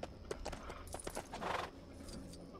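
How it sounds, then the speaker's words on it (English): Horse hooves clip-clopping in the Lego Lord of the Rings video game, a steady run of close footfalls over a faint game soundscape, with no voices present. "I felt like going on a horse while doing this."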